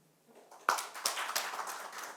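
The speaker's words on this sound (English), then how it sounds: "I just clapped because I wanted that story to end" A single person claps hands in a room, a few sharp, fairly loud claps spaced out over about two seconds, with no talking.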